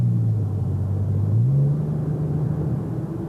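A Porsche 911 engine drones in a low, steady rumble at about 50 km/h, its pitch stepping up once as it revs higher, close and fairly loud.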